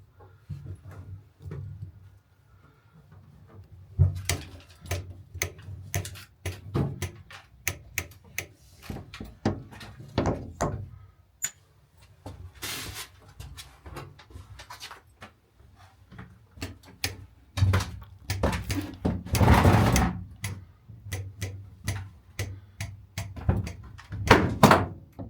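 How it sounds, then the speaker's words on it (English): Construction noise: irregular thuds, knocks and clattering bangs, some sharp and loud, scattered through a quiet background with occasional grinding bursts. "Sorry about the noise, guys. This is a construction zone."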